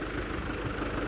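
A Ford diesel tractor engine runs at a steady idle, a continuous low rumble heard close and fairly loud with no speech over it.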